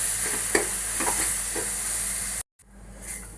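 Soaked tamarind stirred into a hot frying pan for coconut chutney: a close, continuous sizzle with a few soft scraping stirs, cut by a brief silent gap before the hiss resumes.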